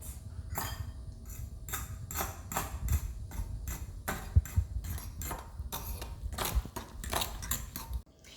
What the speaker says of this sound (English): Now it's time to mix up all of our ingredients